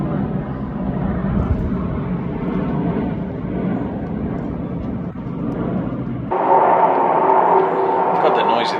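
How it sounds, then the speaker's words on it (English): Airplanes flying overhead during an outdoor bike-frame unboxing make a steady, loud broadband roar that fills most of the clip, then shifts to a brighter, harsher tone for the last couple of seconds. "they're noisy, the planes"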